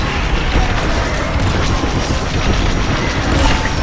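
A continuous loud, dense explosion rumble from the space combat video game Star Wars Squadrons, with no quiet gaps.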